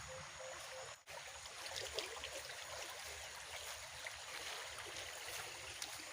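A full drainage channel on a catfish farm carries water with a steady, broad rushing flow, continuous and moderately distant throughout.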